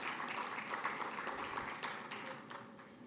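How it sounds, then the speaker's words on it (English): Audience applause at an ARIN 53 conference session, a steady spread of clapping from a seated crowd in a hall, holding fairly even for about three seconds before easing slightly. "I'd like to get a round of applause for our sponsors"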